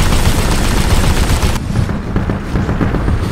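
Dense, loud automatic gunfire in Titanfall 2 multiplayer combat, a continuous rapid volley of shots that fills the whole moment, with no clear speech over it.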